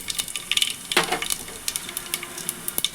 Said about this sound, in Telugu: ఆయిల్ హీట్ అయిన తర్వాత ఇందులో ఆవాలు జీలకర్ర మెంతులు వేసుకోండి